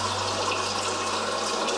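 Tap water pours steadily from a pitcher into the boiling tank of a SteamPure water distiller, a continuous, even rushing and splashing stream with no talking.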